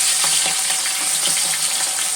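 Foli fish sizzles steadily in hot oil while being turned in the pan, with a constant loud hiss and small spatters and clinks throughout.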